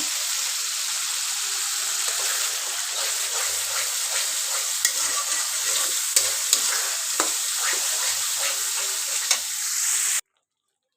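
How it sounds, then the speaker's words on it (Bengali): Spices for biryani frying and being stirred in a pan, a steady bright sizzle throughout with occasional ticks and scrapes of the spoon, close and continuous, no talking. "আর এদিকে বিরিয়ানির জন্য মশলা কষাচ্ছি"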